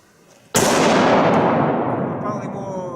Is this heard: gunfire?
yes